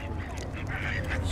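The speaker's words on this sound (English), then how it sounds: "Duck." Ducks on a pond give a short burst of nasal quacks over low background noise, close and fairly soft, with a voice mixed in.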